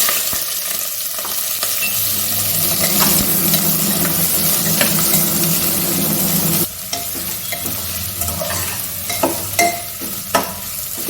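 Onions frying in oil with garam masala and cumin for a Bengali ghugni made with goat fat: a loud, close sizzle with scraping stirs throughout, thinning slightly partway before more scrapes and taps, with no voices.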